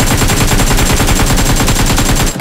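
Rapid automatic gunfire rattles nonstop in a video game, a dense, loud burst of shots in fast rhythm that drops off abruptly at the end.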